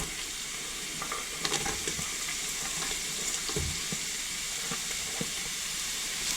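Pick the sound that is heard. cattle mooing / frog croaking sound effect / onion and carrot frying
onion and carrot frying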